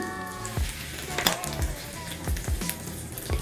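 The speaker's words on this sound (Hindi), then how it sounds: "जैसे ही ऑयल गर्म हो जाता है डाल देंगे इसमें एक छोटा चम्मच जीरा आधा छोटा चम्मच हींग" Cumin seeds and asafoetida hit hot vegetable oil in a pan for a tempering, giving a close, crackling sizzle with sharp spits and pops over a few seconds.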